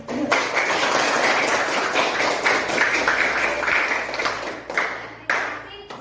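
A sixth-grade primary school class claps for student groups after their presentations on Surah Al-Kafirun. Many sharp hand claps overlap in a busy, continuous burst, with a few louder isolated claps standing out near the end.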